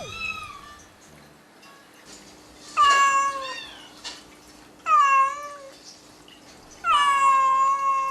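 A mother cat who has lost her kittens meows plaintively indoors, several long drawn-out cries spaced a couple of seconds apart, close and clear, with faint fainter calls before them.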